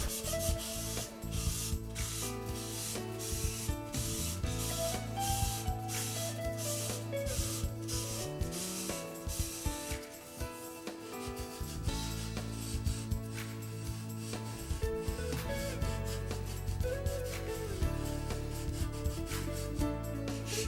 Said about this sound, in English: When the dope has dried, use a piece of 320 grit sandpaper to sand the framework smooth.